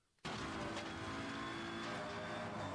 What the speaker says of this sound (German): Wir fahren also drauf zu, hacken die Bremse an, schießen die Karre in die Kurve